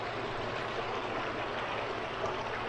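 A small creek flows beside a road in the Victorian High Country, giving a steady, close, broadband rush of running water with no talk over it.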